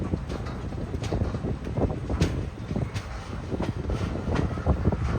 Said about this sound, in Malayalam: നല്ല കാറ്റുണ്ടാവും കേട്ടോ